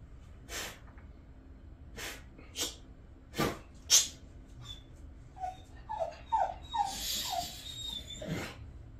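A dog in the film Mad Max: Fury Road gives a run of high whimpers after several sharp snorts and breaths, close and fairly loud against quiet background.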